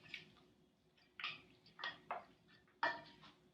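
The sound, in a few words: stirring seasoning into a mixture in a bowl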